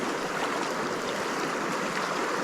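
A small creek in western North Carolina flows steadily in winter, a constant close wash of running water with no other sounds over it.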